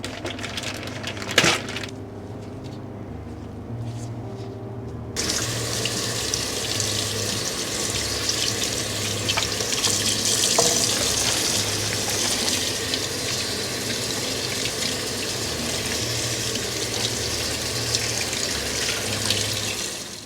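A kitchen tap runs steadily while lamb chops are rinsed under it: a close, continuous rush of water with a few light clinks early on, before the flow grows fuller and stays even to the end.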